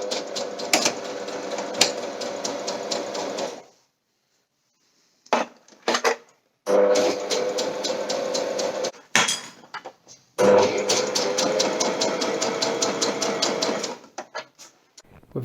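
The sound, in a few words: sewing machine hemming a synthetic fabric strip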